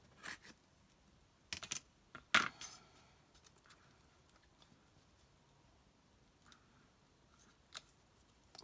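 Scissors trim a Gelli print journal cover in a few quiet, brief snips early on, the sharpest cut near the middle, then faint rustling and near silence.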